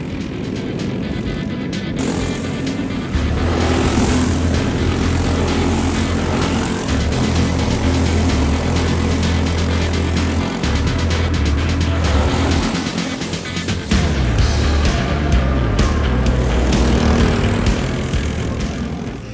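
Racing kart engine during a practice session, loud continuous droning whine with steady low rumble, pitch rising and falling as it laps, no voices.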